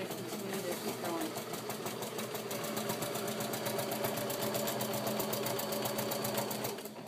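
A sewing machine runs steadily, stitching straight-line outline quilting through a layered quilt, its rapid needle clatter forming an even, continuous mechanical rhythm close to the microphone for the whole stretch.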